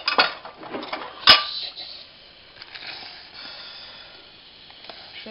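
A metal spoon scrapes and clinks against a dish while scooping butter for a chicken-breast gratin dauphinois, with one sharp clink near the start and softer scraping after, close and fairly quiet.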